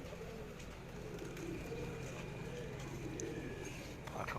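Lakha breed pigeons coo softly at a loft, low repeated calls steady under a constant murmur of background noise, with faint scattered chirps nearby.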